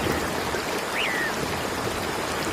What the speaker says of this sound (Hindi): अब तो बारिश का पानी मेरे घोंसले तक आ गया।